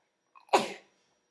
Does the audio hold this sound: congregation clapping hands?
no